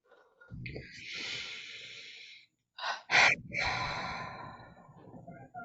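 A slow guided breath during a forgiveness therapy session, with a drawn inhale and a sighing, airy exhale close to the mic, in two breathy swells.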